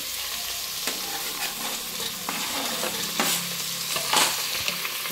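Vegetables and a potato fry for a masala pulao, a steady close sizzle with scraping stirs and a few clinks of a spoon against the pan, no talk.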